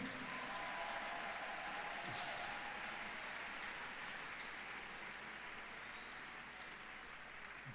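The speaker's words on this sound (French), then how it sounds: "Est-ce que tu peux acclamer le Seigneur plus fort?" A church congregation at a French-language service cheers and applauds in a steady, dense wash of clapping that sounds fairly distant and holds evenly throughout, with faint voices mixed in.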